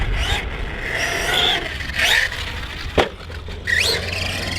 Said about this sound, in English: I think I'm starting to hear the clutch starting to slip actually